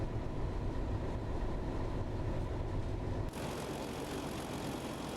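A steady, dense mechanical drone of a small train engine buzzing continuously in the video game Train Sim World, East Coastway line between Brighton and Eastbourne, with a slight shift in tone partway through; no talking.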